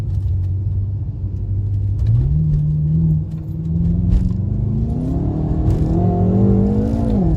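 BMW M5 F10 accelerating hard with the tyres losing grip: a loud, close engine drone rises in pitch, dips briefly, then climbs again, with no talking.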